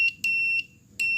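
A multimeter's continuity-test buzzer gives three short, loud, high beeps in quick succession as the probe tips touch, with quiet gaps between.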